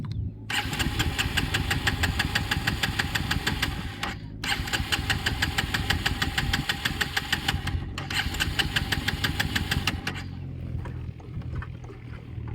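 A motorcycle that broke down on the road cranks in three long, rapid starter bursts separated by short pauses. The engine never catches, and it falls quiet at the end.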